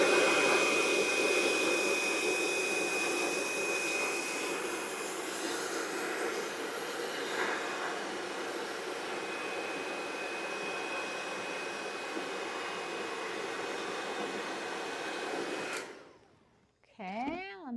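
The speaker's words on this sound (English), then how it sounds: "then I take my blow dryer" A handheld blow dryer blowing damp hair during a styling session, a steady loud whooshing roar with a faint whine that runs continuously before abruptly cutting off near the end, followed by brief muffled handling sounds.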